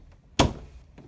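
A household door opens or closes with a single sharp thud close by, followed by faint rustling in a quiet room.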